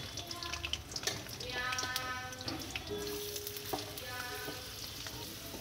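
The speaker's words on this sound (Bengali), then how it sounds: "প্রথমে জিরে ফোড়ন দিয়ে এরপর আলুগুলো ভেজে নেব।" Potatoes fry in oil after a cumin-seed tempering. A soft, steady sizzle and crackle runs throughout, fairly quiet and close, with faint kitchen clinks in the background and no speech.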